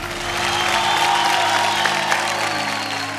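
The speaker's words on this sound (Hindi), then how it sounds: "जोरदार ताली" Loud audience applause rolls through a hall at a Bhojpuri singing reality show, a steady wash of clapping held over sustained musical tones for a few seconds.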